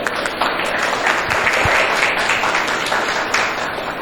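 An audience stands and claps to welcome guests at a talk on autism, a dense, continuous burst of applause filling the room for a few seconds.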